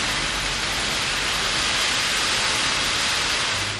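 Heavy monsoon rain pouring down steadily in Dharmapuri, Tamil Nadu, a dense, unbroken roar of water that stays loud and even throughout with no voices.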